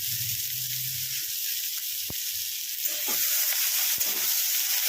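Ingredients for a soupy pasta frying over a high flame, with a continuous close sizzle and a couple of sharp clicks and scrapes from stirring.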